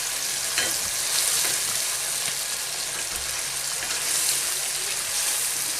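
Potatoes and tomatoes frying in a pan give off a loud, steady, close sizzle that crackles without a break and has no talking over it.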